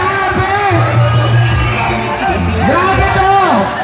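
A crowd shouts and cheers at a barangay youth council sports opening in Salawag, a dense, steady wall of overlapping voices and whoops that stays loud throughout.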